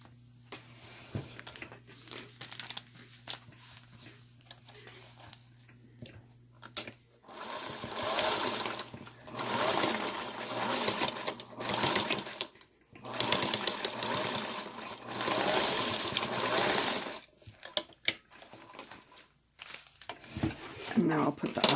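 A sewing machine finishes a seam on a fabric bunny head, running in several separate bursts of stitching with quiet gaps between them.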